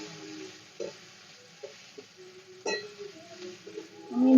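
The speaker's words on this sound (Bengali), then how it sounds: "দিয়ে দেবো লঙ্কা কুচি, টমেটো কুচানো। ভালো করে একটু মিশিয়ে নেব।" Chopped green chillies and chopped tomatoes are stirred in a frying pan. A low, soft sizzle sits under scattered scrapes and knocks of a spoon against the pan, and one brighter clink comes midway.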